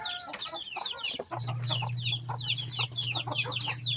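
Many chickens cluck and squawk continuously close by at feeding time, a busy overlapping chorus over a low steady hum.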